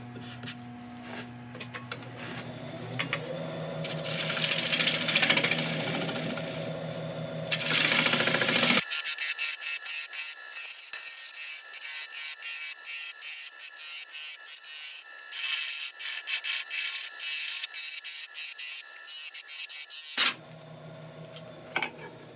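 A wood lathe turns and hollows a bowl glued up from mixed hard and soft woods, first with a steady droning hum and tool scraping, then a long stretch of bright, rapid rhythmic rasping and chattering of the gouge cutting into the spinning wood.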